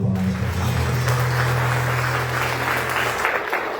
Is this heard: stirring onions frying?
no